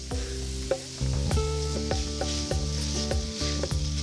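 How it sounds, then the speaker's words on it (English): Chorizo sizzles and crackles steadily in a hot pan, with repeated scraping and tapping of a utensil breaking it apart. "when you're frying the chorizo, you want to continue to break it apart"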